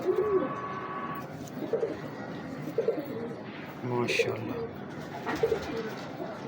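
A golden pigeon coos in soft, repeated low calls at a steady pace, close by, while someone speaks briefly in between.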